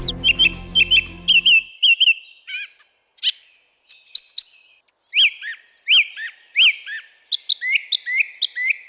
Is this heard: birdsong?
yes